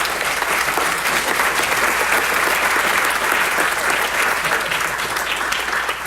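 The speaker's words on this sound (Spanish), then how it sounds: "Dele palmas al Señor," A church congregation claps in dense, steady, sustained applause that stays loud and even throughout.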